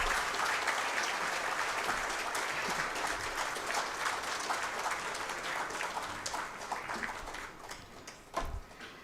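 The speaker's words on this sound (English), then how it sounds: "May we have a huge round of applause for her." A large audience at a book launch event applauds a woman coming onto the stage, with dense, sustained clapping that fills the room and tapers slightly toward the end.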